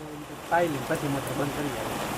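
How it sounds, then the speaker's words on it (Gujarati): Rain falls steadily during the Shravan monsoon, a soft, even patter forming a constant hiss beneath a person speaking nearby. "વરસાદ આવી ગયો હે"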